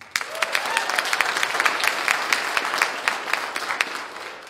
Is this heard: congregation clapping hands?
yes